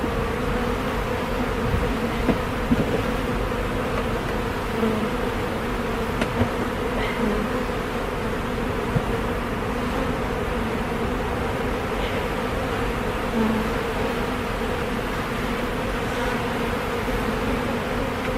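Honey bees buzz around a hive during an inspection in a steady, dense drone that continues unbroken, close and even in loudness.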